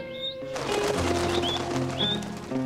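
Several birds chirp and whistle in short rising calls over a busy, musical background, moderately loud and close.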